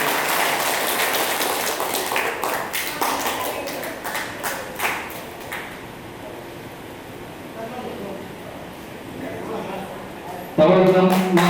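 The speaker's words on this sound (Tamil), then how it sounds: "அனைவரும் கரகோஷத்துடன் தங்களது வாழ்த்துக்களை தெரிவிக்குமாறு கேட்டுக்கொள்கிறேன்" Applause rises from the audience at a police felicitation ceremony honouring officers in Usilampatti, a loose wash of clapping heard over and under an announcer's voice on a public address system, swelling again loudly near the end.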